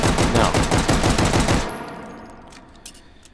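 Rapid automatic gunfire in a video game rattles loud and close for about a second and a half, then cuts off, leaving a fading echo and a few faint clicks.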